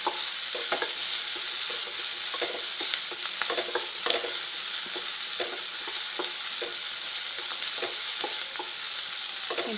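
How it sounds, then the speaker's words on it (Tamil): Eggplant frying and browning in a pan with onions, a continuous sizzle broken by frequent scraping stirs, close and steady throughout with no talking. "கத்திரிக்காயை நல்ல ப்ரௌனிஷாக வறுத்துடலாம்"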